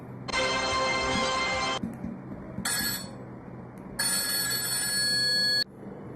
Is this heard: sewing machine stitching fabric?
no